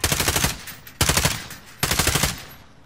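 Automatic gunfire in Call of Duty Warzone comes as three loud, rapid bursts of roughly a second each, evenly spaced and close, with a brief ringing tail after each one.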